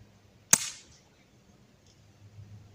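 A single sharp crack of a BB gun fired outdoors for long-range shooting, loud and brief with a short decaying tail, followed by near silence.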